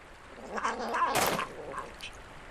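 A cat in the video game Knight's Path gives a short, hoarse, strained cry of about a second, close and fairly loud over faint background noise.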